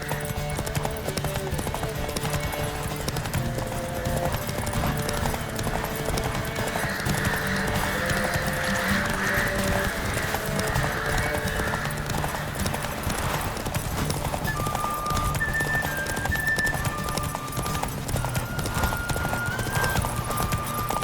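Horse hooves gallop in a steady, fast clip-clop rhythm through the video game The Witcher 3, continuous and prominent for the whole stretch over game music, with occasional snorts.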